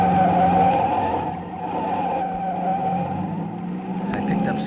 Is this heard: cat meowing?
no